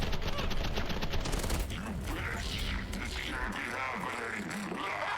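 Rapid SMG and pistol fire in the shooter game SPRAWL, with dense bursts and quick single shots mixed with clicking mechanical weapon sounds, loud and close under game audio, with talking over it.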